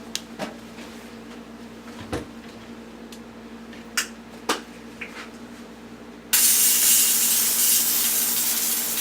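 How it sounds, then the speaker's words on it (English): A fire extinguisher blasts onto a kitchen cooking fire during training, swept across it: a few sharp knocks and clicks first, then an abrupt, loud, steady spray hiss that runs for about three seconds, with no voices. "She sprayed the fire using a strong sweeping motion"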